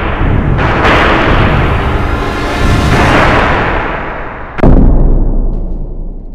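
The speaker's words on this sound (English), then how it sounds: "It sounded like an explosion." A loud staged explosion in a stop-motion Teenage Mutant Ninja Turtles animation: a long, broad rumbling roar with a sharp second blast near the end, then a decaying tail, with no voices.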